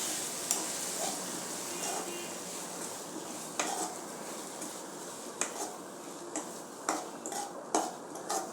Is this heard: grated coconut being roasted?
yes